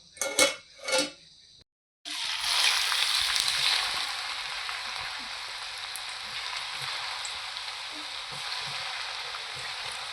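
A couple of clattering knocks of utensils come first, then grated potato for a fasting batata chivda hits hot oil with a sudden, dense hiss that settles into a steady, close sizzle.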